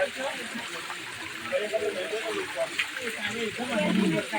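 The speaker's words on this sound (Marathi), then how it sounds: "आणि इकडे सगळे रस्त्याने धबधबे." Steady rushing and gushing water from waterfalls running down beside a mountain road near Girnar fills the scene, with people talking over it throughout.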